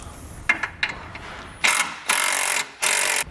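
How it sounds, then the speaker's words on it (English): A socket wrench with a 19mm socket ratchets bolts tight on a base plate kit for a 2014 Chevrolet Malibu, giving a few light clicks followed by three longer, louder bursts of ratcheting close by. "So we'll come back with a 19mm socket and tighten up our bolts"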